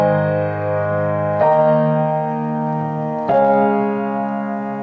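Piano plays a song with both hands together, three full sustained chords struck a beat apart and left ringing, close and loud without speech.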